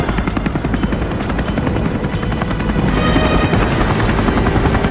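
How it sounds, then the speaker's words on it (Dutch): A helicopter flying overhead in Japan, its loud, steady rotor chop and engine drone filling the whole stretch and swelling slightly toward the end, with no voices. "Hé, helikopter daar!"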